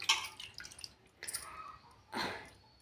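Sweet potatoes being washed in water: soft splashing and dripping in a few separate bursts, close and quiet, with no talk.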